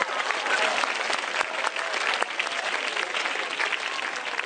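Audience applause at a stand-up comedy show: loud, continuous crowd clapping that stays dense and even from start to finish, with no voice over it.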